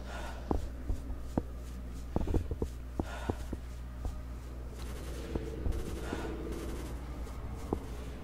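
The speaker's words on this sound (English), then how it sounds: "Here's some gunfire off in the background" Distant gunfire crackles in scattered single shots and short bursts over a steady low rumble of game ambience in STALKER: Call of Pripyat with the Misery mod, with no talking.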